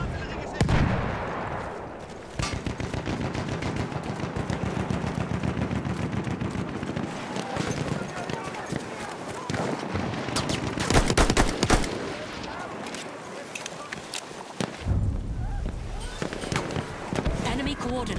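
Battlefield 1 artillery strikes pound the ground in a dense, loud barrage of booms and crackling blasts, with rapid gunfire mixed in and lulls between bursts.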